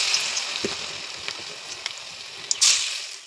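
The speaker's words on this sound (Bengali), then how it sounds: "এভাবে আমি সবগুলো কাঁকরোল ভেজে নিলাম।" Batter-coated kakrol (spiny gourd) stuffed with filling fries in hot oil in a wok, giving a soft, steady sizzle with a few sharper crackles and a louder burst of spitting near the end.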